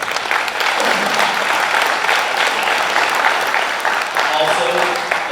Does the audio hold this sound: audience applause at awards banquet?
yes